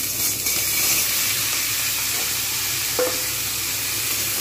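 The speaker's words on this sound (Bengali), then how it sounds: "তারপরে সবজিগুলো দিয়ে ভালোভাবে ভাজতে হবে।" Mixed vegetables hitting a pan of browned onions for a Bengali red amaranth greens chorchori, a steady close sizzle with steamy hiss and a brief scrape of stirring, no talking.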